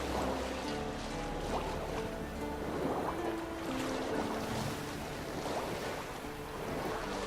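A homemade boat crosses a foggy lake in The Witcher 3, a steady wash of water and lapping waves with a soft wind-like hiss running unbroken at even loudness throughout.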